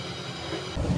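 A steady rumbling roar of a passenger train, the Kahuripan, passing straight through Solo Balapan station, growing heavier near the end, with no voices.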